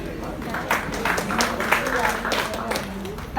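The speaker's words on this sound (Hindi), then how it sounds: "जोरदार तालियां से स्वागत करें देवेंद्र के लिए।" Audience clapping in welcome at a college Hindi Divas celebration, a moderate, uneven patter of hands with voices and crowd murmur blending over it.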